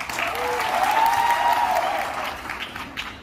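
An audience applauds during a speech at a Vestige event, steady dense clapping from a large crowd that swells and then fades.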